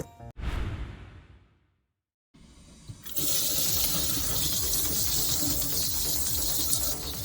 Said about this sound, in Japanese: 水洗いをしていきたいと思います